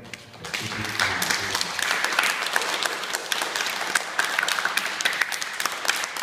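An audience bursts into sustained, dense clapping after a storyteller finishes a telling of The Giving Tree, with a brief voice at the start before the applause fills the room.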